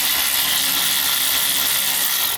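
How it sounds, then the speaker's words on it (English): Electric ratchet spinning continuously to loosen a brake caliper guide pin on a BMW 335i during a brake upgrade, a loud steady close-up whir lasting about two seconds before cutting off. "I'm gonna make this quicker by throwing in this ratchet, electric ratchet in. Loosen it."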